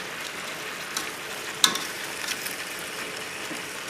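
A chicken stew cooks in a covered pot over a low flame, giving off a soft, steady sizzle and bubbling hiss with a single faint clink partway through.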